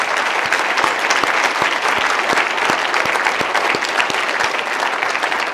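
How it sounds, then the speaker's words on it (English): Steady, dense applause fills a luncheon hall as the audience honors award inductees, a continuous wash of clapping with a few sharper claps standing out, no voices. "Just give one big round of applause to our inductees"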